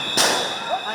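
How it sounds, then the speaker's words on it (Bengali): A police sound grenade bursts at a protest march, a single sharp bang followed by a brief ringing tail and background crowd noise. "মিছিলে সাউন্ড গ্রেনেড ও কাঁদানে গ্যাসের শেল নিক্ষেপ করে পুলিশ"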